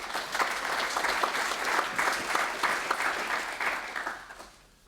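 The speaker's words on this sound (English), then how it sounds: "Give a round of applause to Juan." Audience applause for a speaker at an artificial intelligence and Earth observation conference panel, steady dense clapping filling the room for about four seconds before tapering off.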